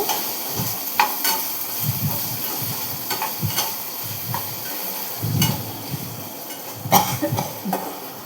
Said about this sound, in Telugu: సాల్ట్ కొంచెం, ఇంకా మంచిగా కలుపుకోవాలి.